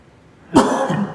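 A single close, loud cough bursts out abruptly after a quiet moment. A throaty rasp trails off behind it.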